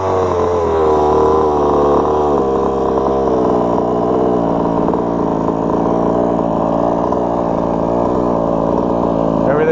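A Losi DBXL radio-controlled car's small gas engine idles steadily and loudly, a continuous buzzing drone with no pauses.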